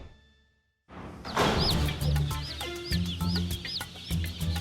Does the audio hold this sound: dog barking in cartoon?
no